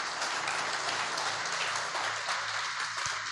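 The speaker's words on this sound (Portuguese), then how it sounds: "Ele merece uma salva de palmas bem forte." A church congregation applauding during a worship service, with steady, dense clapping from a full crowd sustained throughout, loud and continuous with no pauses.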